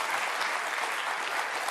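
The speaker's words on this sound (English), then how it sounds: "Big Leicester cheer for Mark Selby." Snooker crowd in Leicester applauding Mark Selby, a dense burst of clapping that fills the hall steadily and evenly for a couple of seconds.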